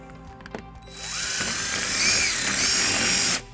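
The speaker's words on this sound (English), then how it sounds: "And now we'll tighten it using a 3 8 socket." A power tool with a 3/8 socket whirs as it tightens a nut on a trailer wiring harness bracket of a 2019 Nissan Murano, a close, loud burst that rises and holds for a couple of seconds before stopping abruptly.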